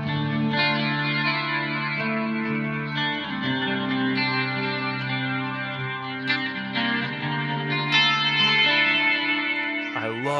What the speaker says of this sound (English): And then they've got the old reel-to-reel.